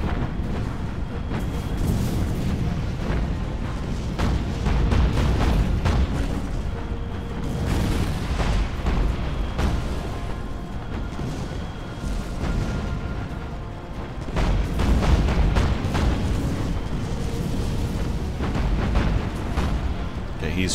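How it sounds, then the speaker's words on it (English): Naval broadside cannon fire from a warship in Battlestations: Pacific booms repeatedly in heavy, rumbling volleys over dense battle noise, loud and sustained throughout. "Got full broadsides going on."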